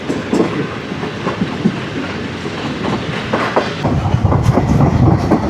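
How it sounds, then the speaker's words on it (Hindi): A passenger train on the Awam Express route rolls along rails through Sindh near Nawabshah, a loud continuous rumble with rhythmic clickety-clack of wheels over the track joints. "ट्रेन हमारी सरारी रेलवे स्टेशन पे पहुंच रही है"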